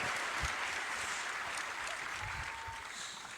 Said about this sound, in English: It's my golf clap.